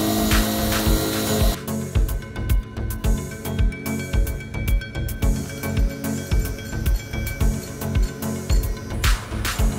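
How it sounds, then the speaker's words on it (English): A CNC machine cuts a steel disc with a rhythmic, repeating cutting noise, regular pulses of grinding and whirring, loud and close, with a steady mechanical hum. "Then I performed the machining of the main knife holder disc with the CNC machine."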